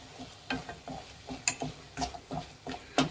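Coconut holige filling stirred in a pan, a close series of rhythmic scraping strokes with soft clicks of the spoon against metal over a faint sizzle, no voices.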